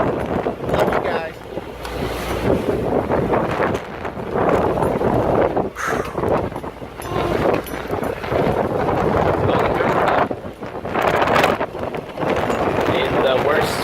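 Strong wind buffets the microphone continuously aboard a Skipper 20 sailboat in the Florida Keys, a dense rushing roar with rain and water noise mixed in, sounding close and loud throughout.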